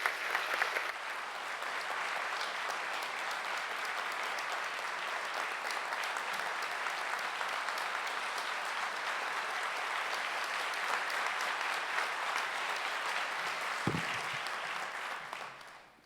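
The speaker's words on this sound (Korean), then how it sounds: "뜨거운 박수로 맞이해 주시기 바랍니다" A large audience at a university presidential inauguration ceremony applauds warmly as the newly installed president comes forward, the dense, even clapping sustained for about sixteen seconds before tapering off at the end.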